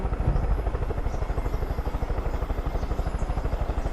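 A helicopter in the video game Far Cry 5 flies steadily, its rotor producing a fast, even thumping pulse over a continuous engine whine, loud and close, with no talking.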